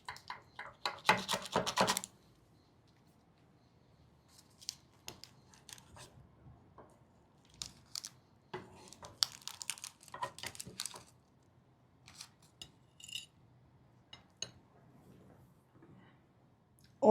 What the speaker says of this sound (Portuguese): vamos cortar aqui um pedacinho.